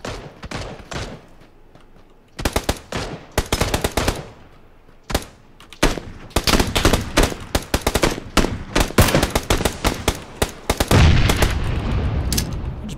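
Assault rifle fire in a shooting video game: rapid automatic bursts, close and loud, repeating in clusters and growing denser toward the end, with no talking.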